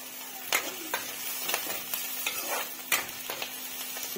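Chopped garlic drops into hot oil in a frying pan and sizzles steadily, with repeated scraping and stirring strokes of a spatula over a soft constant hum.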